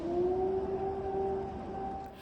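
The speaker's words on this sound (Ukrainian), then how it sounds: "Там, як і у кількох інших областях, лунала повітряна тривога." An air raid siren wails steadily in the Rostov region, a sustained tone held at moderate level with a faint background rumble, fading slightly at the end.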